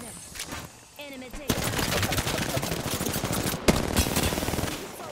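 Rapid bursts of automatic gunfire during a video game shootout, loud and continuous with brief pauses between volleys, under a mix of other game sounds.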